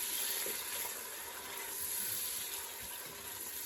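Tomatoes fry in a hot pan with a steady broadband sizzle, even and continuous at moderate loudness, no voices over it.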